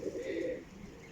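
A single Teddy pigeon gives a short, soft coo close to the microphone, a brief low throaty call with no other sound around it.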